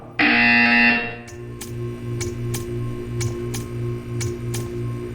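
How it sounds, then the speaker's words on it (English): A loud electronic buzzer in Portal 2 blares for about a second, then gives way to a soft mechanical hum with a regular run of faint ticking. "You will hear a buzzer."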